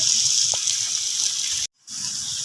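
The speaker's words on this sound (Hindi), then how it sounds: "अब मैंने घी में इसको डाल दिया।" Ridge gourd and onion sizzle hard in hot ghee, a loud, continuous hiss that cuts out briefly near the end before resuming.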